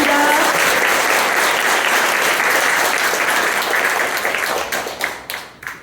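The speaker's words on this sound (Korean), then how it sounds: "네, 큰 박수 부탁드립니다." Party members applaud at a Cho Kuk Innovation Party meeting in Daegu, loud, close, sustained clapping from a crowd that thins and breaks into scattered claps at the end.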